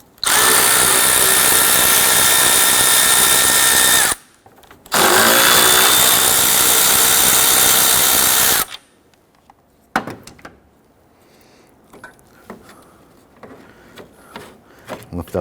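Power tool running on the 10mm grille bolts of a 1992-1996 Toyota Camry, two loud close bursts of about four seconds each with a short gap, then quiet handling clatter and faint movement.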